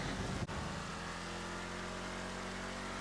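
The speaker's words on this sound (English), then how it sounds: "I can't stay mad at this car. That is a bloody good noise." Vapid Dominator ASP car engine in the video game GTA 5, a loud continuous droning roar at steady speed after a brief dip, close and alone without talk.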